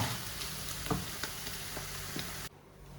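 Paneer pieces roasting over a low flame in a pan for paneer bhoondhi give a steady, close frying sizzle with small crackles, cutting off abruptly near the end.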